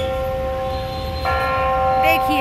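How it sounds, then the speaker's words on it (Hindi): A large clock tower bell chiming noon in Lucknow rings out with a sustained, resonant tone, joined midway by a brighter second strike, while a voice speaks briefly over it. "देखिए पीछे आवाज़ आ रही होगी क्लॉक टावर में"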